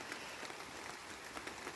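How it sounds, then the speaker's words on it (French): Light rain falling on an awning: a steady, faint, even hiss of patter with no pauses, heard alone at a low level. "je vais vous mettre une petite minute de pluie, là."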